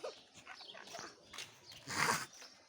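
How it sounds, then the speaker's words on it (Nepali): A pet dog makes faint, soft whimpering and snuffling sounds close by in a quiet space, with low, scattered rustles between them. "हाम्रो प्यार कुकुर सुतिरहेको छ"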